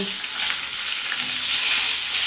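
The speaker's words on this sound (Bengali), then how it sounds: "এবার কেটে রাখা ফুলকপিগুলো ভালো করে ভেজে নেব" Cut cauliflower florets fry in hot oil seasoned with turmeric and salt, hissing in a steady, close, bright sizzle, with light stirring noises in the pan.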